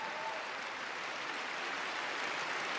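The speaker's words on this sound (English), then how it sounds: "Listen to the applause" An arena crowd applauds a figure skater's free skate at the 2015 Four Continents Championships, a broad, even wash of distant clapping that holds steady throughout with no voices on top.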